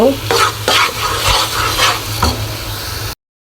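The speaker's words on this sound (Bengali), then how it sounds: "আমি আরও পাঁচ মিনিটের মতো এভাবে নাড়াচাড়া করে ঘন করে নিয়ে তারপরে গুঁড়ো দুধটাও দিব" Carrot halwa being stirred in ghee as it thickens, with repeated scraping strokes of a spoon against the pan over a steady close sizzle, then cutting off abruptly.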